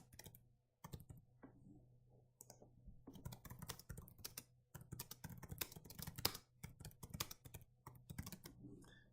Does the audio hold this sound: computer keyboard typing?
yes